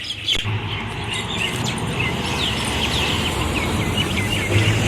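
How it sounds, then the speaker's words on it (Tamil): A sparrow chirps repeatedly in a tree, quick bright tweets over a steady rumble of passing traffic near a roadside tea stall on the way to Palani. "குருவி சவுண்டு, எங்கே குருவி இருக்குது மரத்தில்."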